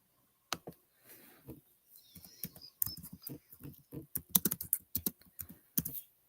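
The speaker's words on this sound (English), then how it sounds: "if you hear me typing" Keys clatter on a computer keyboard in a quiet room, an irregular run of close, crisp clicks and taps that grows denser toward the end, with no voices.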